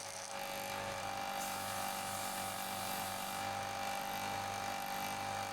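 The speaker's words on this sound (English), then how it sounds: "I just sort of was improvising and trying different things with this sander." A power sander grinds the rough edge off a handmade wooden toy wheel, a steady close whirring drone with a faint rasp that holds evenly throughout, with no talking.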